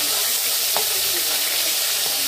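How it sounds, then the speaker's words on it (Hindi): Fish frying in hot oil at a Delhi fish fry stall gives a dense, steady, loud sizzle close up, with a couple of faint clinks along the way. "तुम देख सकते हो हम मच्छी फ्राई कर रहे हैं"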